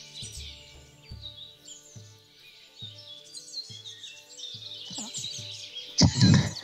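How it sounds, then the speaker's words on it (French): Birds chirp and tweet in a repeating pattern of short calls over a soft background, fairly close, with a louder burst of sound near the end. "Ces oiseaux."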